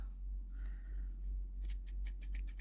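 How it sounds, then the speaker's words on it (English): Scissors snip crochet thread repeatedly, a series of quick crisp cuts in the second half over a low steady hum. "Cut your thread."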